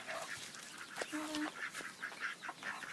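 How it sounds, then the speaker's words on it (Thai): Ducks calling in a sunlit rice field, a few short nasal quacks and honks scattered over steady outdoor background noise, moderately distant. "เล่นเป็ดนะคะ"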